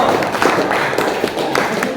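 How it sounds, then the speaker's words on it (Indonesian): A classroom of students claps for their female teacher during a biology lesson, with dense, steady applause that fills the whole moment and stays close and lively. "Oke, beri tepuk tangan untuk Ibu."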